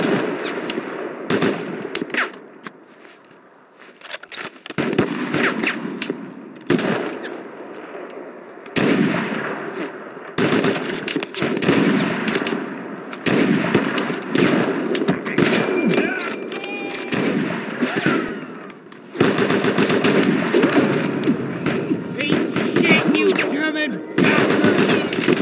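Sustained bursts of automatic gunfire and scattered single shots from the video game Mud and Blood, loud and dense for the whole stretch, with brief lulls between volleys and faint voices mixed in.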